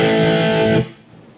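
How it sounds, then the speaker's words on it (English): A guitar played dry with no reverb, a loud distorted strum ringing briefly and then cutting off abruptly with almost no decay tail. "here's no reverb"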